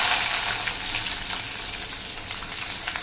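Sliced onions and curry leaves fry in hot oil, a close, continuous crackling sizzle that holds steady throughout.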